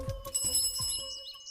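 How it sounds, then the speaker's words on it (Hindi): A bicycle bell rings repeatedly in quick bright trills, several rings spread across a short stretch, with a low background hum underneath and no talking. "सर वो तो घंटी बजाता हुआ साइकिल पे चला गया"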